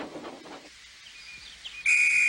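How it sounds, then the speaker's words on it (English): A train conductor's whistle sounds a sharp, sustained high shrill near the end, following a few soft voiced sounds and quiet hiss. "Oh, that's my conductor's whistle."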